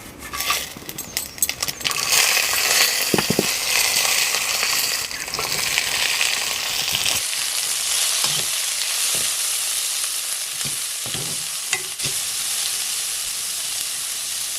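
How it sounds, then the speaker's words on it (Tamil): Onions and spices sizzle and fry in hot oil in a kadai for a paneer butter masala gravy, a steady crackling hiss with occasional clinks and stirring knocks, close and alone. "வெங்காயம்லாம் வதங்கிட்டுருக்கு."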